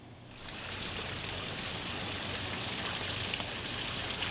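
A dog named Kona paddling in a resort swimming pool, a steady, close wash of splashing and sloshing water that runs unbroken throughout with no talking.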